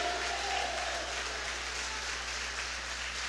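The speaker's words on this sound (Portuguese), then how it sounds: "Bata palmas para ele, em nome de Jesus de Nazaré." A church congregation claps together in steady, dense applause during a worship service, filling the room evenly from start to finish with no pauses.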